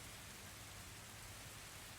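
A steady rain sound effect plays as a constant, even hiss of falling rain with a low rumble beneath, quiet and unbroken throughout.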